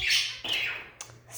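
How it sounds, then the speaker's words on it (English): Budgies squawk and chirp in quick bursts, loud and close, with shrill calls overlapping and breaking off in short gaps. "budgies are amazing. Amazing birds."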